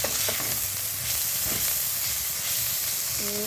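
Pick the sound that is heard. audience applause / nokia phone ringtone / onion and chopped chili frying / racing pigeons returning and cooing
onion and chopped chili frying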